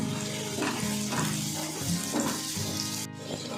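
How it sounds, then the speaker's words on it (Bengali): Carrots and green beans frying in a pan for a mixed vegetable moong dal, steady close sizzling with rhythmic stirring scrapes, no talking. "বিনসটা দিয়েও আমি দুই তিন মিনিট নেড়ে ছেড়ে গাজর আর বিনস ভেজে নিয়েছি"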